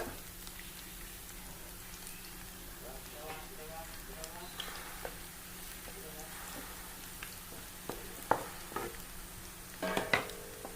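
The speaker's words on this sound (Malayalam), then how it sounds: "നല്ലോണം എണ്ണ ചൂടായിട്ടുണ്ട് നമുക്ക് ഇതിങ്ങനെ ഓരോന്ന് ഇങ്ങനെ ഇട്ട് കൊടുക്കുക" Beef pieces dropped one by one into hot oil, giving a faint, steady sizzle with a few sharper pops and clatters near the end, with quiet background sounds.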